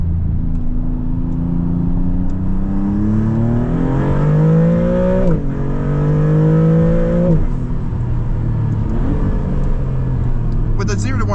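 A 2026 Maserati MCPura revs on a test drive. The loud engine note climbs and drops through several throttle blips and gear changes, with a steady low rumble underneath.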